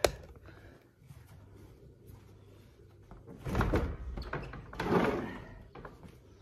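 A broken door is pushed and forced, giving two loud scraping, rattling thuds after a quiet stretch, with faint background noise between them.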